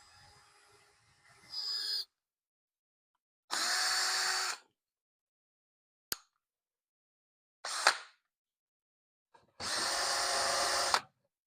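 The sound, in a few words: cordless drill running with battery going dead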